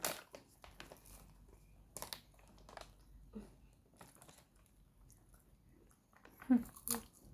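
Someone munches a crunchy vegetable snack up close, a series of quiet irregular crisp bites and crunches with brief pauses, growing a little louder near the end.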